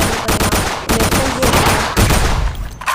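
Loud, rapid SMG fire in the Roblox game Survive the Zombies, coming in continuous bursts with brief gaps between them, close and dominant throughout.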